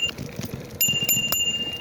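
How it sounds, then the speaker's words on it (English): A single-ding bicycle bell on a bike ride through a battlefield park sounds three quick, bright, close rings, each following the last under a second apart, over rolling wheel and road noise. "your boy's a sucker for bells on bikes"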